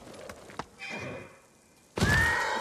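A horse whinnies in the samurai game Ghost of Tsushima, a short neigh followed by a louder, brighter whinny near the end, over faint ambient noise and hoof sounds.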